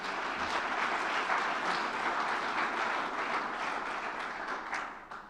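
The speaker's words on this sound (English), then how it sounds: "I think you deserve a big applause again" Conference audience applauding a panel contributor, sustained even clapping at moderate level from a seated crowd, tapering off at the close.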